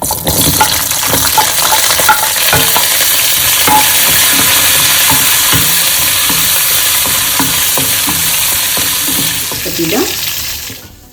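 Onions, curry leaves and green chilli crackle loudly in hot oil after a tempering of fenugreek seeds and dried chillies for sambar, with rhythmic spoon clinks and stirring over a dense, close sizzle that fades away at the end.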